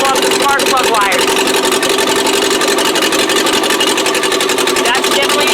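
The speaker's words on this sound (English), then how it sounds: "I'm going to turn the car back on." A 1959 Morris Minor 1000 engine runs at a steady idle, a loud, continuous, rhythmic mechanical drone heard close up, with faint voice-like traces over it.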